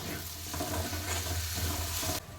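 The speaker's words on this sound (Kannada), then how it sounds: "ಇವಾಗ ಇಲ್ಲಿ 1 ಟೊಮೆಟೊನ ಹಾಕ್ಕೊಂಡು ಫ್ರೈ ಮಾಡ್ಕೊತಾ ಇದ್ದೀನಿ" Tomato frying in a pan with softened onion and turmeric, a steady, close sizzle and crackle that holds evenly before dropping off abruptly near the end.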